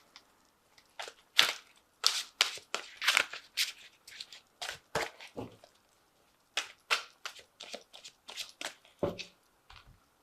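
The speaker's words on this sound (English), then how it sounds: "So I'm just going to draw some cards from the Angel Tarot." Angel Tarot cards being shuffled and handled, a quick irregular series of crisp riffling snaps and taps in short clusters against near silence.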